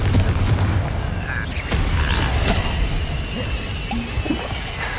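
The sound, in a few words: Confringo blasting spell explosion in a video game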